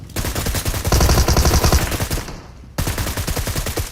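Rapid automatic gunfire from an M762 rifle in a mobile shooter game rattles out in dense bursts, with a short pause before the shooting resumes, loud and close.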